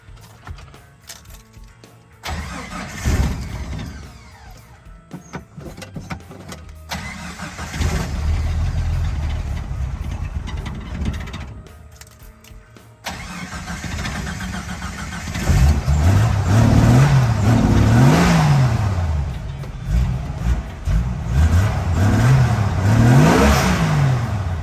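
A 1988 Jeep Wrangler Sport engine cranks and catches, idles unevenly with a couple of stalls, then is revved cold in repeated rising and falling bursts, loud and close.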